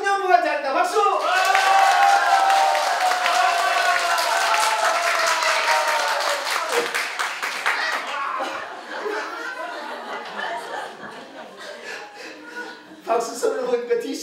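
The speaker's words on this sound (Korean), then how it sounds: "박수 소리를 보니까 뒷심이 좀 있는 것 같아요" A church congregation applauds and cheers for its youth group at a Christmas celebration: a loud, sustained wash of clapping and crowd noise that slowly fades, with voices and chatter mixed in.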